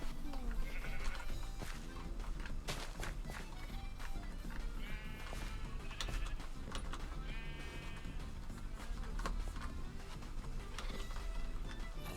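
Sheep bleat repeatedly in a farming video game, the calls rising over busy, steady game background sound and occasional thumps.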